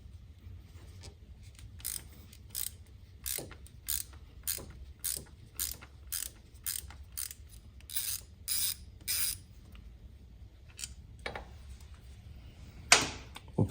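A ball-end Allen wrench turning bolts on a 1980s Harley Ultra Classic motorcycle transmission case, close rhythmic ratcheting clicks in short bursts with brief pauses and a sharper clack near the end.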